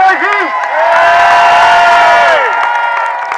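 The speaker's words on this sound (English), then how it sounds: "I want to hear a great big cheer when Coles Dash lands" A crowd at an outdoor air display cheers loudly and close, with whoops and shouting held for a few seconds before fading, with no talk.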